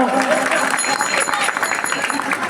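Hand clapping keeps time with a devotional bhajan after the hand cymbals have stopped, a steady dense patter of many palms mixed with singing voices and a busy room ambience.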